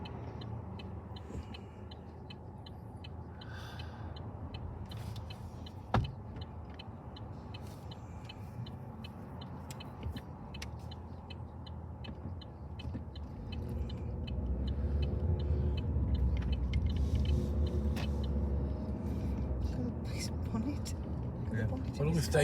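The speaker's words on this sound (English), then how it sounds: "We're just driving round and seeing what's going on." A car drives around Tampa streets, its engine and road rumble steady underneath with a brief knock midway and the rumble swelling later, while someone talks over it throughout.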